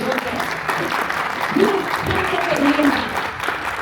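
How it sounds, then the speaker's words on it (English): Audience applause at a veterans resource fair evening event, a continuous wash of clapping with voices and speech audible beneath it. "So give them a round of applause."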